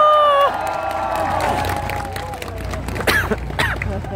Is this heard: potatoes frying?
no